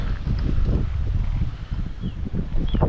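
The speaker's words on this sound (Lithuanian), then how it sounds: "Vėjas nemažas visą dieną" Strong wind buffets the microphone outdoors on a river island, a steady low roar with gusting surges throughout, no voices.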